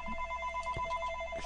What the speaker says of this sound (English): Excuse that phone.